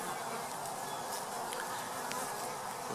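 Dense, steady buzzing of many bees close by, a continuous drone with individual insects flitting past.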